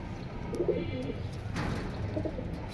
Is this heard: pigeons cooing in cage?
yes